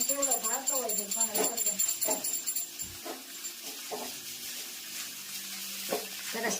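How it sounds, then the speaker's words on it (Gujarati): Mustard seeds and cumin sizzle and crackle in hot tempering oil for a corn sevdo snack, a crisp spattering hiss with sharp pops that runs underneath steady conversation. "સરસ મજાનો વઘાર થઈ ગયો છે."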